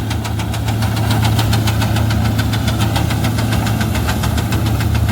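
A Swaraj 855 tractor engine runs steadily and loudly up close, driving a straw-making machine, with a rapid, even knocking chug throughout and no voices.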